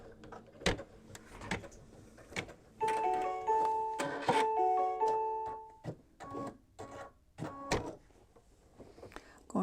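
An embroidery machine stitches the seam of a fabric mug rug, making rapid mechanical clicking and thumping with a whirring, tonal motor hum through the middle stretch, close and steady, then stopping and starting in short bursts.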